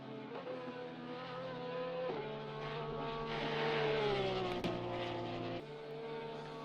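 Race cars lap Watkins Glen in a racing video game, a continuous buzzing engine roar with pitch sweeping up and down through gear changes and a short dip, heard with no talk.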